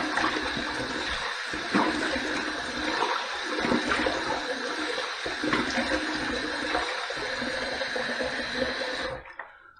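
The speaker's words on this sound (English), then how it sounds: "I want to throw a lot of water on there and do a lot of rinsing" Tap water runs hard to rinse a Tedalus Velocity-ONE safety razor: a loud, steady splashing hiss that carries on unbroken for several seconds, then cuts off sharply at the very end. No one speaks.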